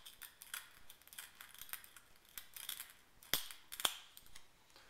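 Faint clicks and scraping of a knife breaking out the glass insides of a hollowed light bulb, small crackles scattered throughout with two sharper snaps near the end.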